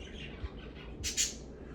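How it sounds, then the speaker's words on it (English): Pet birds squawk in two sharp, bright bursts close together near the middle, loud against a low background hum, with no talking. "now you guys want to talk. I love my birds, man."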